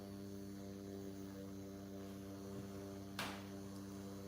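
A portable electric fan runs in a backyard, giving a faint, steady motor hum with a constant whir and one brief knock near the end.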